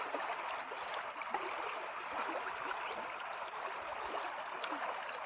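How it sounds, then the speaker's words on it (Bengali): Water rippling in small waves, a continuous soft broadband wash with faint trickling and lapping detail, steady and moderately close with no talk. "এই পানি দেখেন কিভাবে ঢেউ খেলতেছে।"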